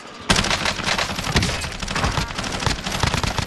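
Rapid bursts of gunfire from a video game shooter crackle without pause, dense overlapping shots and automatic fire filling the whole stretch loud and close after a brief quiet start.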